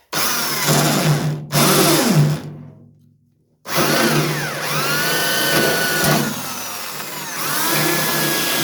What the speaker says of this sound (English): I use a spot weld cutter, that helps centralise that.